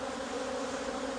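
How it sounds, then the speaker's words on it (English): Honey bees buzzing steadily over the frames of an open beehive, a dense, continuous close-up drone with no pauses or voices. "So all those bees on top of there, they're okay."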